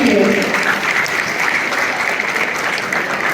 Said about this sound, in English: Could everyone give a big round of applause for them?